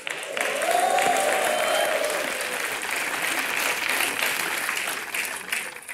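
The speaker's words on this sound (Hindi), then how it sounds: "ऑफकोर्स के लिए जरूर तालियां दोस्तों" Studio audience at a TV comedy show breaks into loud, sustained applause that carries steadily for several seconds before tapering slightly, with a brief voice rising at the start.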